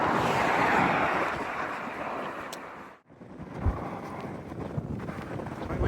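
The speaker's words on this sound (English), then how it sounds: "Quite windy." Strong wind buffets the microphone on an exposed northern Scottish coastline between Occumster and Keiss, a steady loud roar with a brief lull near the middle before gusting back in.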